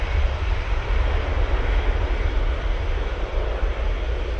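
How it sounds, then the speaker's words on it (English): A Jet2 Airbus A321ceo jet rolls for takeoff with a loud, steady roar of its engines and deep low rumble, close by and unbroken. "A321 CEO for Jet2 now rolling."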